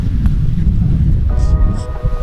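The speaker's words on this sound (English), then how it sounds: "It's just started to get really, really windy this afternoon." Strong wind roars steadily against the microphone in a low, continuous rumble, with faint tonal hum appearing near the end.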